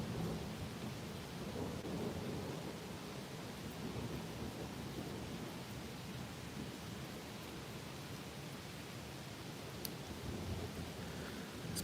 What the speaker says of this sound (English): Get ready for the thunder.